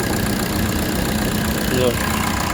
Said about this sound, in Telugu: ఇంజన్ ఇంజన్ సౌండ్ కూడా మీకు అర్థమవుతుంది ఇంజన్ అయితే సౌండ్ అయితే చాలా స్మూత్గానే ఉంది